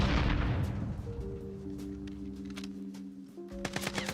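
Enemy gunfire in the Warzone video game: a heavy blast at the start that fades into ringing tones, then a cluster of sharp shots near the end.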